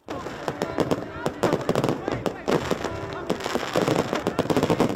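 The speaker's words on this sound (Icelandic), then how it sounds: "Flugeldar með tilheyrandi ljósasýningu á himni eru mikilvægur hluti af gamlárskvöldi fyrir marga." Dense New Year's Eve fireworks burst in rapid, overlapping cracks and bangs, a loud continuous barrage of sharp pops with crackling between, close by and unbroken throughout.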